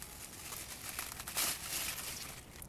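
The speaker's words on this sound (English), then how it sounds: "I'm gonna go ahead and take a knife here and cut this stem out." A knife cuts the stem out of a freshly harvested garden bok choy head, giving a brief, faint, crisp crunching crackle up close.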